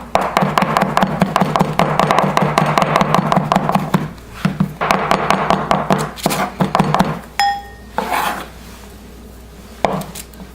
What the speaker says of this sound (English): Parsley, same thing. Mince it up really good.